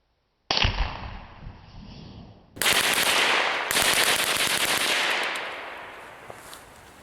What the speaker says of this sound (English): we got the Marlin Model 60. Got the BMF Activator on here. See how controllable this thing is.